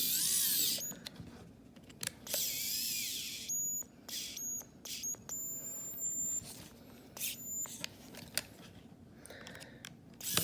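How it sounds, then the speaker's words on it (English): A power screwdriver struggles to back screws out while a Shark Ion 700 Series vacuum's roller brush motor is taken apart, giving short uneven whirring bursts that start and stop close by. "Either my screwdriver's dying or it's just not strong enough."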